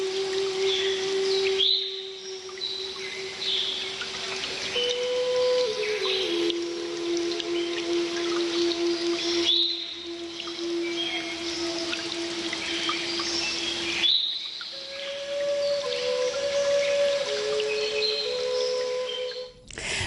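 Water pours steadily down the Tifrit waterfalls in a constant loud wash, while birds sing sustained whistles and sharp chirps over it for the whole stretch.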